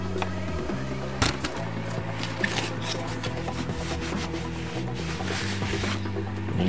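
Sanding a 3D printed plastic case by hand, a close, quiet scratchy rubbing that carries on steadily with a few louder scrapes and knocks.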